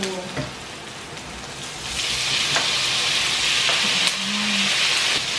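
Onion and then tofu hit a hot pan, starting with light crackles before a louder, sustained sizzling hiss takes over, with scattered pops and a brief soft tone near the end, no talking.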